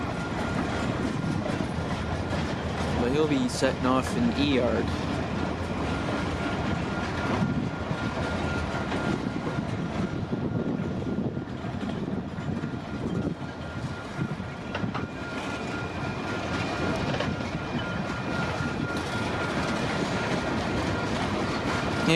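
A CPKC freight train hauling empty potash cars rolls slowly past, a long steady rumble of wheels with clickety-clack and a brief squeal early on. Someone talks briefly over it.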